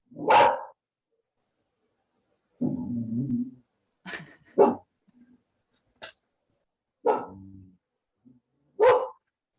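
A dog barks in separate bursts across the clip, several sharp barks and a rougher growly stretch, fairly close, with quiet gaps between.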